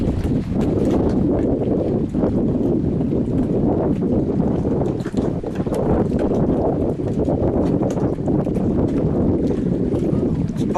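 A 24-foot Skater powerboat with dual 2.4-liter Optimax Mercury racing engines roars steadily at speed on open water, with loud continuous engine drone mixed with heavy wind buffeting and hull splash throughout.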